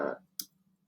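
A single sharp mouse click on a school website's publish button, crisp and close, following a brief burst of low voice and then a faint hum.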